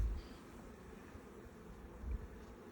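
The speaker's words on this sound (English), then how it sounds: "All these other bees you see flying" Honey bees buzz around an open hive during a spring inspection, giving a faint continuous hum with some wind rumble.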